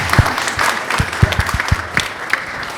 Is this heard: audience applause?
yes